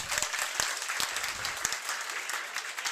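Applause from an audience welcoming a teacher: a steady, fairly faint wash of many hands clapping, with a few sharper individual claps standing out, continuous throughout.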